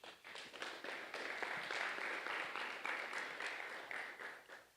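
A conference audience at a clinical research event gives a round of applause that sounds faint and distant, a dense patter of clapping swelling briefly and then tapering off.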